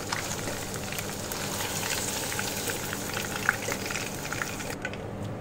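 Paneer cubes frying in hot oil in a pan, giving a steady dense sizzle and crackle with scattered pops throughout, close and fairly loud, with no talking.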